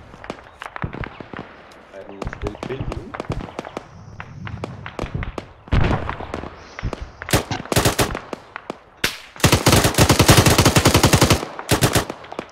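Gunfire in an Arma video game battle rings out as sharp single shots and rapid machine-gun bursts, sparse at first and then a dense volley near the end, with voices talking between the shots.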